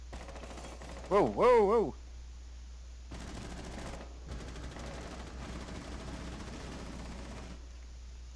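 Gunfire in Rainbow Six Siege, a team deathmatch hostage round on the House map: a voice briefly exclaims, then rapid automatic gunfire comes in bursts at moderate loudness.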